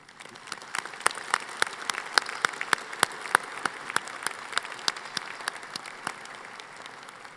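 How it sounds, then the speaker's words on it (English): Sustained applause from a sizable audience at a college convocation ceremony, dense overlapping claps with sharper individual hits standing out, steady throughout with no voices. "Let's recognize all of these academic achievements with a round of applause."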